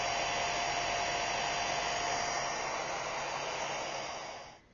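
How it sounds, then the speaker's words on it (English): An ordinary household hairdryer on a gentle setting blowing over a watercolour painting, a steady close whooshing hiss that holds evenly and then cuts off right at the end, no talking. "it is usual or quite normal to use an ordinary hairdryer just to dry it out"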